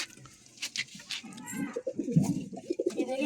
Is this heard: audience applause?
no